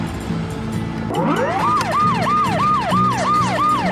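A loud ambulance siren starts up and settles into a rapid, repeating wail that cycles evenly, close by and unbroken, over engine rumble.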